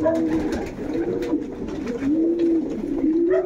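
Domestic pigeons coo nearby in a loft, low rolling coos repeating in overlapping phrases with faint rustling of the birds moving about, and no one speaking.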